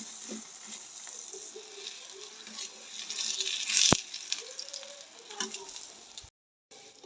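An aloo paratha spread with ghee cooks in a pan, a soft, steady sizzle with light crackle and one sharp tap midway, fairly quiet and without talk.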